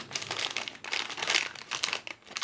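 Plastic wrapper on a toy being opened, crinkling close up in steady bursts of crackle with brief pauses, alone without any talk.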